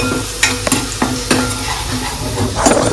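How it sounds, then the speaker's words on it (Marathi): Garlic sizzles in hot oil while being stirred for a prawn masala, a steady frying hiss broken by several sharp clinks of a spoon against the pan. "गरम गरम तेलावरती आपण मस्त गार्लिक म्हणजेच की लसूण टाकलेलं आहे"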